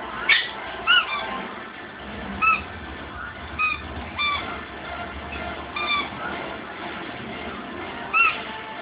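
A squeaky dog toy squeaking in short, sharp bursts, roughly eight squeaks spaced irregularly over several seconds, close by against a quiet room.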